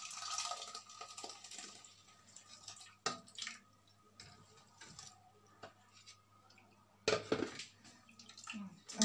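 Water blended with lemon peel is strained into a cooking pot, giving intermittent trickling and splashing pours with a couple of louder bursts, plus faint clinks of the pot and utensils in a quiet kitchen.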